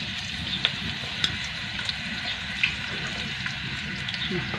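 Garlic and onion frying together in cooking oil, a steady soft sizzle with a few small pops, heard close and fairly quiet.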